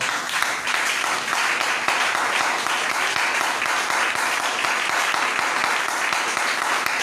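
Sustained applause from a church congregation fills the space, a dense wash of clapping that holds steady and loud throughout with no voice over it.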